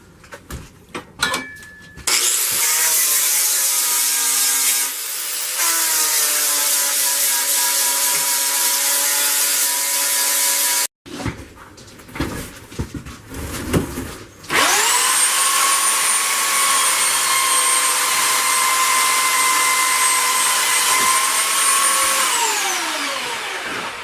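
Steel is ground flat with an angle grinder on a small sword build, in two long, loud, high-pitched whining passes, each spinning up and then down, separated by a short pause with clanks and handling noise.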